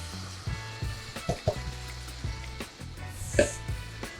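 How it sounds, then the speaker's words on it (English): Diced Roma tomatoes tipped onto lightly sautéed vegetables in a soup pot, giving a steady close sizzle broken by scattered clacks and stirring knocks, with a louder clatter near the end. "we're going to add 5 diced Roma tomatoes to our mixture"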